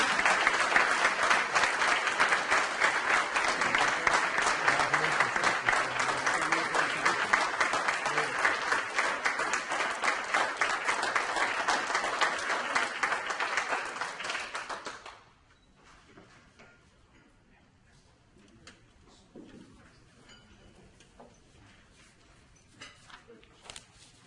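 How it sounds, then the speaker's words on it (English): A chamber of commerce first responders awards audience gives a police officer a sustained, dense round of applause that fills the room for about fifteen seconds, then stops abruptly, leaving a quiet hall with faint shuffles. "Round of applause, please, for APO Thomas Oliver."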